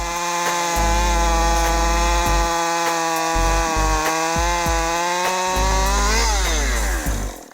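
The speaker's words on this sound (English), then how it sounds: "This is the Husqvarna 550 XP Mark II chainsaw." A Husqvarna 550 XP Mark II chainsaw cuts into a tree, its engine screaming loud and close at high revs with steady harmonic whine, pitch dipping and rising under load before the engine winds down at the end.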